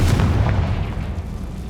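Confringo blasting spell explosion in the Hogwarts Legacy video game: a loud, close, deep booming burst that rumbles and slowly decays over a second or so, with no talk.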